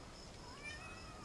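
A cat meows once in a faint, drawn-out outdoor call with a rising and falling pitch, alone against a quiet background hiss.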